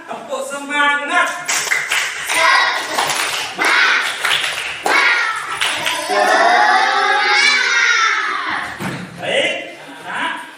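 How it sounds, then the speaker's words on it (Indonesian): Children in a primary school classroom do rhythmic spirit clapping, sharp claps in quick patterns over their loud chanting voices. "Ayo kita tepuk semangat."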